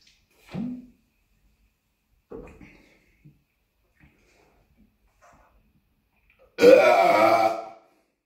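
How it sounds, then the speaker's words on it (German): Someone gives a loud, drawn-out burp of about a second after drinking cheap cola, heard close up, preceded by a few faint short throaty grunts and small noises in a quiet room. "da kommen immer solche Hammerrülpser raus."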